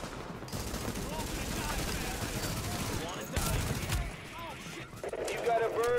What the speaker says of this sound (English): Damn, what a shotgun.